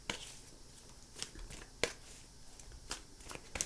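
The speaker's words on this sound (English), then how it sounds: "I'm going to pull 3 cards here." A deck of tarot cards is shuffled and cards are pulled from the pile, giving quiet, close papery riffles and several crisp snaps and flicks at irregular intervals.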